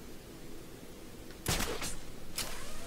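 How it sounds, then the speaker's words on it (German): Gunshots ring out from a bell tower in the Batman Arkham City video game: three sharp, fairly distant cracks over a low ambient hum, the first two close together and the third shortly after. "Der Schuss kam aus dem Glockenturm."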